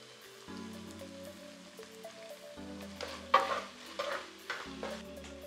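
Thai pad see ew noodles with shrimp are stir-fried in a pan after black soy sauce goes in. A steady sizzle runs under scraping stirs, with a few louder clattering strokes and a faint, steady hum in the background.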